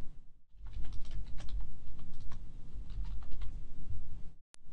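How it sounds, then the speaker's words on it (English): Typing on a computer keyboard, with rapid, steady key clicks close by over a low background hum, stopping briefly at the start and again at the end. "Simply click Create a new user and type in the desired username."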